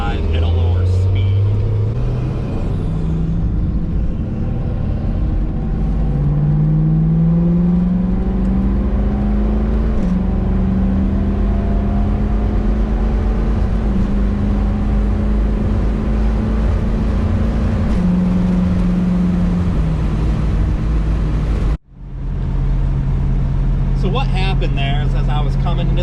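A 1971 Ford Torino with a Gear Vendors overdrive drives along steadily, its engine droning loud and close as it shifts up through second gear, second plus overdrive and third, with a brief drop in sound at one gear change.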